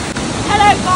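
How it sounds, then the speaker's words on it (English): Yellowstone waterfall roaring as a steady broadband rush with wind buffeting the microphone, loud and continuous, with a faint voice briefly heard over it. "this is the craziest waterfall I think I've ever seen"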